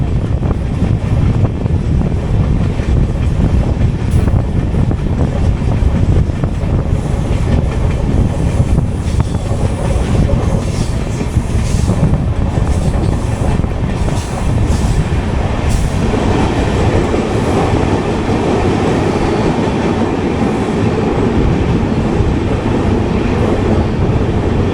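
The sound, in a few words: Kondaveedu Express train running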